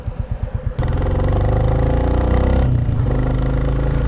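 A Royal Enfield Meteor 350 motorcycle fitted for touring thumps at idle, then the engine picks up into a loud, steady, throbbing run close to the listener, with no talk.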